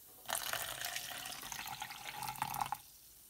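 Half a cup of room-temperature water pours into a cup in a steady splashing stream for a couple of seconds, then stops abruptly, close and clear.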